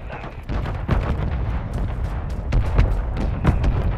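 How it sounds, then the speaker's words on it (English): Friendly mortar strike shells landing in a Call of Duty match, a series of heavy booming explosions spaced roughly a second apart over a rumbling battlefield bed. "Mortar strike inbound now."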